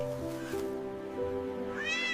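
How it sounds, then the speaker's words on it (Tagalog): A kitten stuck in a tree branch meows repeatedly in thin, high, drawn-out cries, close and fairly clear, with no talking. "May kuting na naipit sa sanga ng puno."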